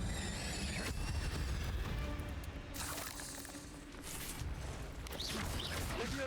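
The Incendio fire spell is cast in the Hogwarts Legacy video game, producing a sudden bright whooshing burst of flame that flares and crackles, followed by further rushing surges over a constant background game ambience.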